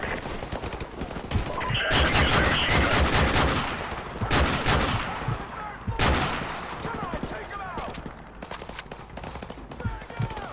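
Machine gun fire in a PS4 video game, loud rapid bursts and overlapping volleys of gunshots through most of the stretch, with voices mixed in among the firing.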